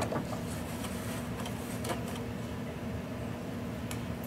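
Sewing machine back tacking a seam on a fabric pencil case, a steady close mechanical whir with a constant hum and light rhythmic ticking of the needle.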